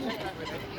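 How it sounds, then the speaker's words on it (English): Geese honking among ducks and pigeons while being fed near a fountain in a London park, a dense, continuous mix of bird calls at moderate distance with crowd noise behind. "These geese, be careful."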